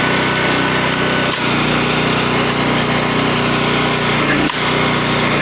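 A pressure washer sprays steadily through a fan tip on a J-rod wand, its loud continuous engine drone and hiss broken by two brief dips as the trigger releases.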